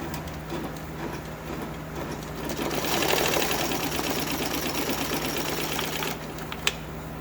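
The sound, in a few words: embroidery machine stitching a letter F on a Flexfit hat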